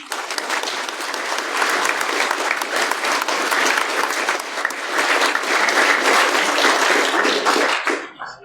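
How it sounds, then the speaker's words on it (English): Sustained audience applause at a conference opening, dense steady clapping from a crowd that swells slightly and then tapers off at the end. "So huge round of applause for them first off."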